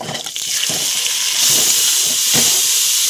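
Washed rice tipped into hot ghee in a wok with torn chili, cinnamon and cardamom, for cauliflower khichuri, gives a loud, steady sizzling hiss that swells midway and holds, with no voices.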